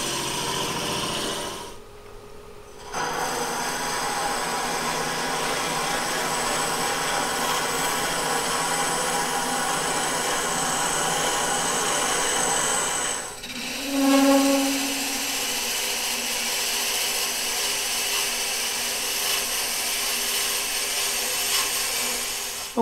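A self-ejecting bit bores into wood with a continuous close grinding, rubbing drone, briefly pausing early on, then running on steadily with a short shift in pitch partway through.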